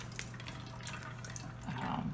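Water drains from a backpacking pot after cooking pasta for mac and cheese, a close, steady trickle and splash that swells slightly near the end, with no talking.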